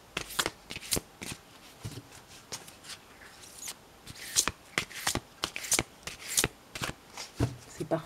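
A deck of oracle cards is shuffled close by in quick, rhythmic riffling bursts that run through the whole stretch with no talking.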